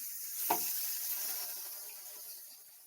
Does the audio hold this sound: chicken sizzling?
yes